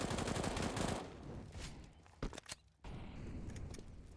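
AK rifle fire on the Inferno map in Counter-Strike, rapid automatic bursts at close range followed by a few sharp isolated shots and quieter gaps.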